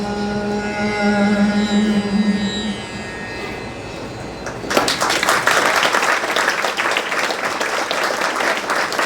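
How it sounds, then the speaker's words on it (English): A held tone gives way to an audience bursting into loud, dense applause for the performing artists at a memorial celebration program, the clapping sustained through the rest of the clip. "Another round of applause for all the artists who came here"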